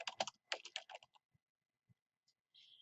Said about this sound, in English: And I'm going to type team name.